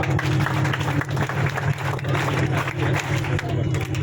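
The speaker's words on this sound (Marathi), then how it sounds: "पुन्हा एकदा टाळ्या द्या" An audience at a school rakhi-sending event for soldiers claps together in sustained, close applause over a steady low electrical hum from a sound system.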